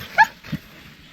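A dog calling for its owner gives one short, sharp yip, followed by a softer low whimper in an otherwise quiet setting, with no talking.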